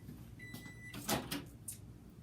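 A microwave oven door clunks open or shut once, preceded by a short steady electronic beep, while chicken pieces are reheated in a home kitchen; a few softer kitchen clatters follow.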